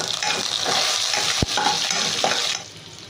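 Cumin seeds fry in hot oil in a pan alongside a spoonful each of urad dal and another dal, a steady close sizzle with a single sharp clink near the middle before the crackle thins out at the end.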